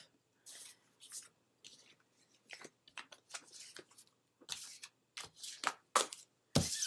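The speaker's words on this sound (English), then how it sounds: "So I will pick up the cards here and give them a shuffle." Cards being shuffled in a series of quick, crisp riffling bursts with short pauses between, close up and fairly soft, with no talking.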